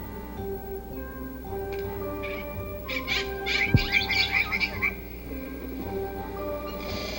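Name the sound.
birds calling around a fishing camp at Lake Guerrero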